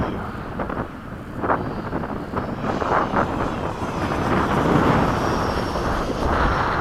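A Hobby King MiG-17 model jet with a 90mm electric ducted fan flies at a little over half throttle, its whining fan rising and falling in the distance under heavy wind buffeting on the microphone.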